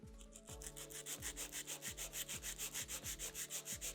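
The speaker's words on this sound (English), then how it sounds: "Now I'm going to file my nail in 5 steps." A nail file works a fingernail in quick, even strokes, a crisp rhythmic rasping repeated about eight times in a few seconds, close and quiet, with no talking.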